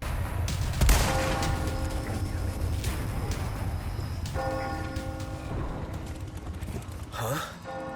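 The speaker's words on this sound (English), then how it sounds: "if you just pull out a gun and shoot the bell, it'll ring, which will trigger the end of the fight" A single gunshot cracks in a video game, followed by a resonant town bell ringing with lingering tones over ambient game sound and breathy vocal noises.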